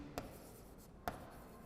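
An equation being handwritten, faint close strokes with two distinct short scratchy taps spaced about a second apart over a quiet room background.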